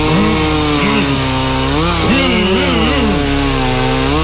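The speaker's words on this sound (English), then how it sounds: "he's finally got the chainsaw and he revs it up" A chainsaw engine revs loudly and continuously, its pitch rising and falling as the throttle is worked, close and unbroken.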